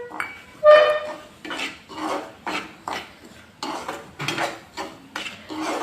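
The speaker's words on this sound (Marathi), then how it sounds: "आपल्याला रवा जो आहे तो चांगला मीडियम गॅसवरती भाजून घ्यायचा आहे, करपू द्यायचा नाही।" Semolina roasting in hot ghee in a pan over medium heat, stirred with a spoon in repeated scraping strokes about every half second, close and clear with no talk.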